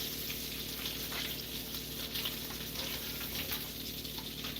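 Bacon frying in a pan gives a steady, dense crackle and sizzle, close and even throughout with no talking.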